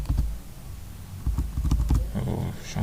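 Keys clack on a computer keyboard during a software lesson, a quick irregular run of close taps that ends with a brief murmur of voice.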